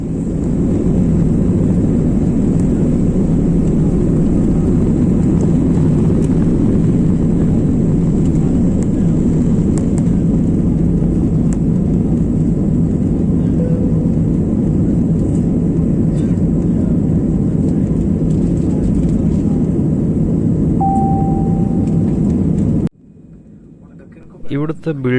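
Airliner taking off and climbing as heard from the rear seat of the cabin: a loud, continuous low engine roar holding steady for most of the time, then cutting off abruptly near the end.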